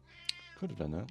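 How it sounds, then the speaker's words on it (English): A house cat gives one clear meow near the microphone, rising and then falling over about half a second, just after a person says a few words. "That was my cat, if you heard that."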